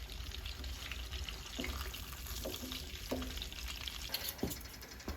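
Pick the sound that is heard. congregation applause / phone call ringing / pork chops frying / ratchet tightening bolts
pork chops frying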